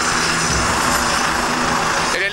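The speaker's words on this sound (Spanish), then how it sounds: "El helicóptero que está trasladando al niño de 13 años, como decíamos recién, de Alto La Sierra" Medical transport helicopter landing in Salta, a loud, steady rotor and engine roar heard close by throughout, with a slight change at the very end.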